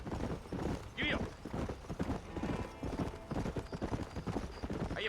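Horse hooves clip-clop steadily in Red Dead Redemption, a western video game, with a brief whinny near the start, all running under ongoing male dialogue.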